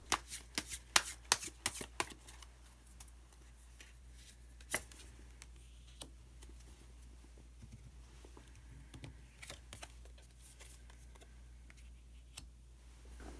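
A deck of Osho Zen tarot cards is shuffled up close, with rapid riffling flutters and crisp card snaps, busiest at the start and then thinning into scattered taps in a quiet room.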